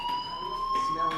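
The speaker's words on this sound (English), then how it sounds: "do you hear that fire alarm?" Inside the game Life is Strange, a fire alarm rings with a steady, piercing electronic tone that holds throughout, loud and continuous, with faint talk and movement beneath it.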